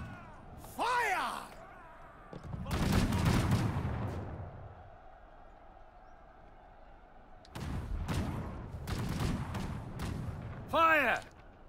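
Game gunfire and artillery volleys in Conqueror's Blade, several loud booming bursts with ringing tails in two clusters, shouted voices and combat noise between.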